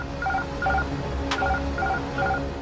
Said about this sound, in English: Then, an alarm is triggered.